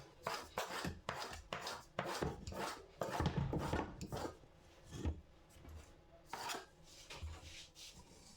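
Repeated sharp chopping strokes of a knife cutting chin-chin dough on a board, in an irregular rhythm, close and fairly loud with no talking.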